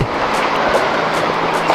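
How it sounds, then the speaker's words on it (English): Forceful river water rushes over rocks in a mountain valley in Sikkim during immense rain, a loud, steady broadband roar close by with no let-up and no voices. "Just look at that force of the water."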